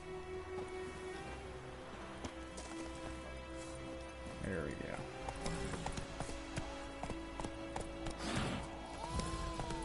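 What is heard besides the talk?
horse hooves galloping in video game The Witcher 3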